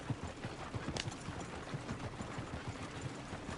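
Horse hooves clip-clop at a steady walking pace in the Red Dead Redemption 2 video game, a soft repeated low thudding close by over a constant ambient wash.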